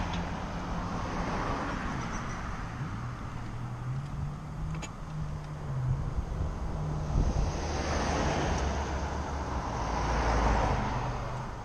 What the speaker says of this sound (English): A lot of cars is still. We're waiting for them to go through